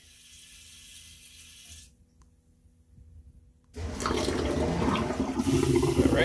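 A luxury diesel motorhome toilet flushes: a running sound of water being added, a short quiet gap, then a loud, rushing pump-out surge.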